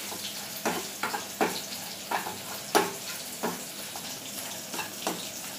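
Powdered spices for a roasted coconut prawn curry being stirred in a hot pan, with a steady sizzle and repeated scraping strokes in an irregular rhythm, close and moderately loud, no voices.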